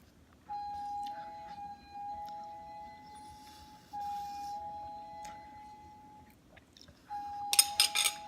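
A child's toy plays a repeated electronic doorbell chime, thin steady tones ringing in short phrases at moderate volume indoors, followed by a brief burst of rattling near the end.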